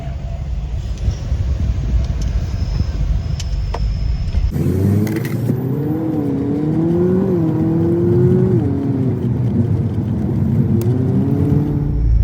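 A car drives along the Cijago toll road in Indonesia in the small-vehicle lane, with a steady, moderately loud road and engine drone and a rising, wavering motor whine.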